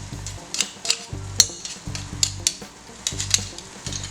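Meat fries in a pan, a soft sizzle running beneath repeated clinks and thumps of a utensil stirring against the pan, heard close with no talking.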